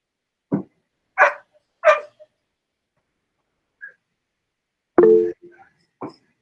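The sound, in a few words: dog barking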